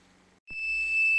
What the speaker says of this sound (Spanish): como habéis visto, el detector en el momento que yo abro la puerta y aparezco por ahí